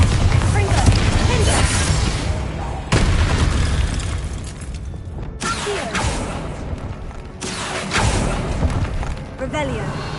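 Repeated booming blasts from the Bombarda and Confringo spells in the video game Hogwarts Legacy, heavy thuds and explosions bursting every few seconds amid combat effects while a player casts spells aloud.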